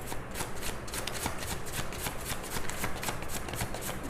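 Tarot cards are shuffled close up in a steady, rapid riffling rhythm of papery flicks that continues evenly throughout with no talking.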